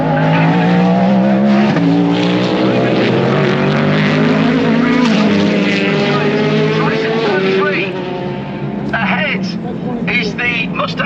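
GTD Pro race cars at Laguna Seca, including Mustang number 16, with loud engines roaring and shifting pitch as the cars pass close, under continuous commentary.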